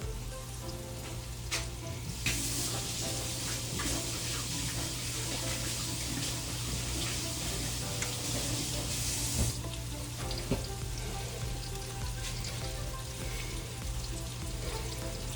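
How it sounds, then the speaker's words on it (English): A kitchen tap runs steadily into a sink during washing up, a continuous hiss of flowing water with a brief surge partway through and a few faint clinks. "again, we'll quickly wash up"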